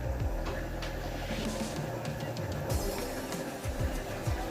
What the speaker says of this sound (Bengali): তারপর আমি সেলাই করে নিচ্ছি